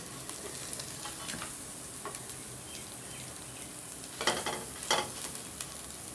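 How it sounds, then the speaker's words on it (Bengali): Homemade noodles are stirred in a frying pan: a faint, steady sizzle with soft scraping strokes and a couple of louder stirring clatters near the end. "ভালোভাবে এটাকে আমরা নাড়তে থাকবো।"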